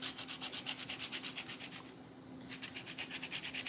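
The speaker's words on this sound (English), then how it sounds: "I'm using a cheese grater. I don't have a zester." An orange is zested on a cheese grater while making pumpkin and cream cheese empanadas, giving close, rhythmic scraping strokes with a short pause midway.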